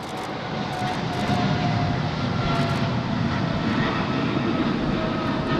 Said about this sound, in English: We've got Air New Zealand now is rolling at 3-4 left.